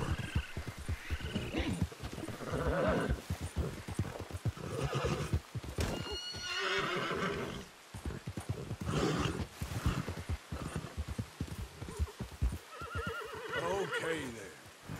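A horse in Red Dead Redemption 2 whinnies loudly several times while its hooves clip-clop in an uneven rhythm, close and prominent, with a voice speaking in between.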